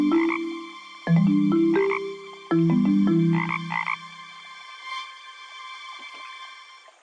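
Cartoon frog croaks from the Hungry Caterpillar StoryToys game, a series of bright, stepped croaking calls in the first half that fade into quieter echoes, with no voices.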